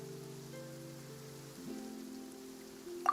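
Rain falling in the video game Genshin Impact, a soft, faint wash of patter beneath sustained low musical tones, with no voices.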